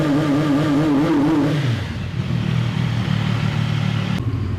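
A 2025 CF Moto 675 SR-R motorcycle engine held at high revs, then dropping back to a lower, throbbing idle, loud and close with no voices.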